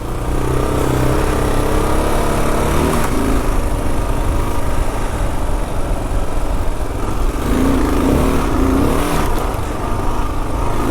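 A new Kawasaki KLR650 single-cylinder dual-sport motorcycle rides off-road across sand, its engine droning loud and steady with rising and falling revs throughout.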